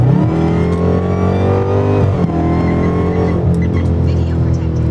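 A Dodge Hellcat Charger on 757 tires accelerating hard from 60 to 80, its supercharged engine roaring loudly and rising steadily in pitch from inside the car.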